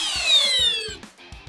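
A Hercules brushless drill in drill mode at speed 2 driving a screw, a whining motor tone that rises then sags and cuts out near the end, followed by a few short clicks, close and alone.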